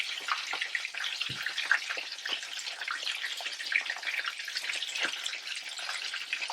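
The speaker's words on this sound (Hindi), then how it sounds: "इस तरीके से बाकी के भी फ्राई करते हैं" Cornflake-coated chicken burger patties deep-frying in oil give a steady, dense sizzle with fine crackling bubbles and an occasional soft knock, close and even throughout, with no talking.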